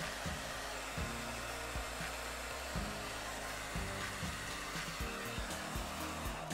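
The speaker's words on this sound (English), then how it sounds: "Heating the underside of the film, waiting until it softens, wrapping it around the edges with firm pressure." A heat gun softens protective film on a Pebble watch, blowing as a steady, close airflow hiss with a low motor hum that pulses slightly in intensity, with no speech.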